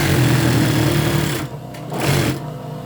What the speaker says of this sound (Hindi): यहाँ पे मैंने इसकी इतनी सिलाई लगानी थी बस सिर्फ आपको चेक करवाने के लिए।